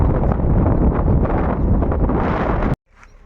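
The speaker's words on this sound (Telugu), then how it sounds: "ఆహా ఎంత చల్లగా ఉందో గాలి" Cold wind gusting across the Pushpagiri temple pond, heard as a steady rushing roar buffeting the microphone for nearly three seconds before it cuts off abruptly.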